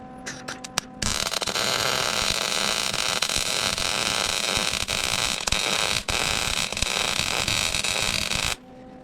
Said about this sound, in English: Let's start some more welds and just hold it up.